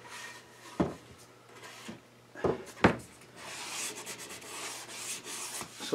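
Sandpaper worked by hand along a small bevel on a wooden toy box, soft scratchy rubbing strokes near at hand with a few sharper knocks of wood early on, then a steadier hiss of sanding.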